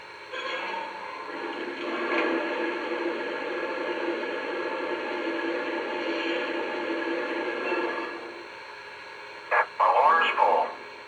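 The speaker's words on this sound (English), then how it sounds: "And the sound of water being added to the tender." A steady hiss of running water pours for several seconds from a small speaker in a Lionel 2-10-4 toy steam locomotive, a tender-filling effect, then stops, followed by brief electronic chirps and tones.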